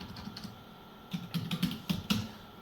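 Computer keyboard keys typed into an Excel spreadsheet for an attendance sheet, a few scattered soft clicks followed by a quicker cluster of keystrokes, close and fairly quiet.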